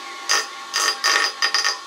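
A screwdriver blade is held square against a bench grinder stone, producing several short rasping bursts of grinding, close and fairly loud, separated by brief gaps.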